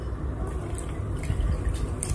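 Liquid 10% sodium hypochlorite pours and splashes into water for a home-made fabric bleach, giving a close, continuous trickle with small drips and gurgles.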